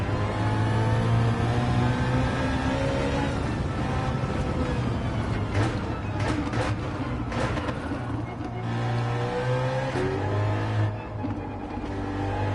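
A BMW M3 engine races hard in the Gran Turismo 7 video game, droning loud and steady with rising and falling revs across the whole stretch, no talk over it.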